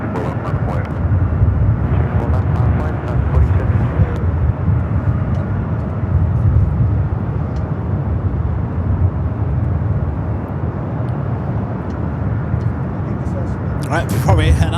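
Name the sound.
aircraft taxiing at Los Angeles LAX airport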